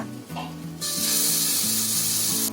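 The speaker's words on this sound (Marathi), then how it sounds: "आता मी तव्यावर टाकले बघा. त्याच्यावरती असं तेल सोडायचं." Batter for a bread-free vegetable sandwich hits an oiled griddle, a faint start giving way to a loud, bright, continuous sizzle close by for most of the clip, with a low hum underneath and no talk.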